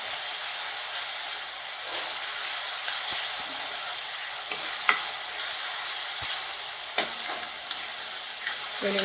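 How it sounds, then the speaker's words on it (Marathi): Chopped onions sautéing in oil until brown for dhaba-style shev bhaji, a steady close sizzle with occasional scraping clicks of a spatula stirring the pan. "आता कांद्याचं चांगलं ब्राऊन कलर होईपर्यंत चांगला परतून घ्यायचा"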